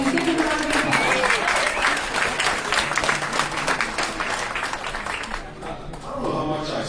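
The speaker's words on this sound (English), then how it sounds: "So please give him a round of applause." An audience claps steadily at a swim coach's 600th victory celebration at Liberty High School, dense applause filling the room with a few voices underneath before it starts to thin near the end.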